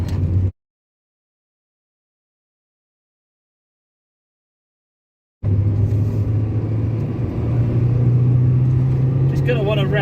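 Toyota Yaris T Sport with its 1.5 VVT-i engine running after a cut of silence, a steady low rumbling drone that rises slightly in pitch, with faint talk over the top near the end.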